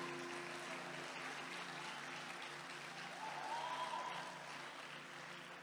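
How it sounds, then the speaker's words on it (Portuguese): Applause from a church congregation, steady and evenly sustained throughout, heard from a distance at moderate volume with a faint crowd wash. "Dê um aplauso então para ele, se é para ele."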